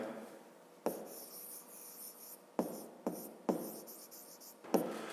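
Pen writing on paper during a fifth-grade maths exercise, a series of short scratchy strokes and taps separated by brief pauses, close and fairly quiet, with no talking.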